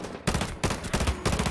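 Gunfire in Rainbow Six Siege: three loud, close bursts of rapid shots separated by brief pauses.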